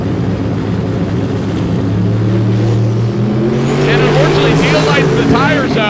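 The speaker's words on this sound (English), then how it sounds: "EJ off the starting line, and the Camaro heading down right side" A Camaro with a 4.8 liter engine launches off a drag strip starting line, loud engine roar rising with revs as the car pulls away, joined by a sharp high-pitched whine in the final seconds.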